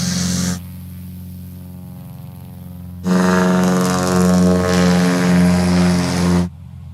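A propeller-driven STOL aircraft taxis at a short takeoff and landing competition. The engine drones loudly and steadily, first idling, then rising in a strong surge before dropping back.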